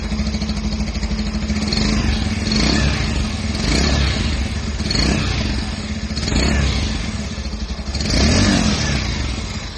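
A 2020 Bajaj Pulsar 150 BS6 fuel-injected motorcycle engine running close by, a steady idle thrum broken by four or five throttle blips that swell and fall back, with no talking.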